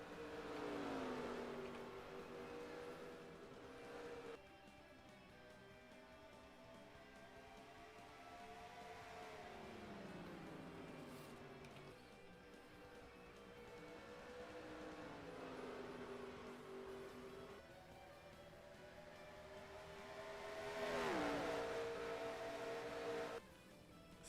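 Several race cars circle the track in the NR2003 racing game, their engine tones rising and falling in repeated sweeps as they lap, a steady moderate drone with no voices.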